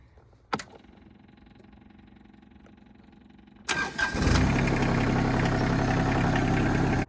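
A Yanmar SA325 compact tractor's diesel engine cranks and catches, then settles into a loud, steady idle; a sharp knock comes early, followed by a low hum before the engine starts.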